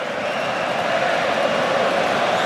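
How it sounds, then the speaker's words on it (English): Spanish football supporters cheer inside a stadium during a Spain versus France Euro 2024 match, a steady broad crowd roar that stays even and distant throughout. "Spanish supporters cheering to the left."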